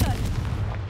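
A Confringo explosion spell going off in a video game, a short loud booming blast that fills the whole moment, with low rumble underneath.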